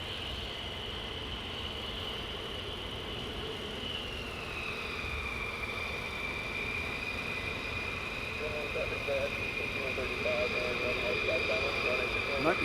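F-15 jet taking off at night at RAF Lakenheath, a distant steady roar with a high whine that slowly drops in pitch, building faintly louder toward the end amid outdoor ambience.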